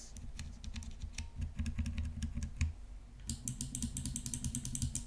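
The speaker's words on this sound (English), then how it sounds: "Let's check the low profile switches sound." Low profile linear, tactile and clicky switches typed in turn, close-up keystroke runs that switch near the end to sharper, brighter, evenly spaced clicks.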